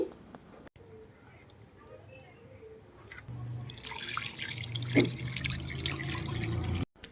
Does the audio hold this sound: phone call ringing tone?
no